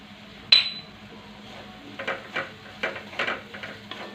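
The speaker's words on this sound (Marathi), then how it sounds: "पावडर सुद्धा आपल्याला तेलामध्ये छान प्रकारे एकसारखे हलवत परतून घ्यायची आहे" A spoon scraping and clinking in a pan as coriander powder is stirred and sautéed in oil for a bitter gourd dish: one sharp metallic clink, then a series of softer scraping taps, close and moderately quiet.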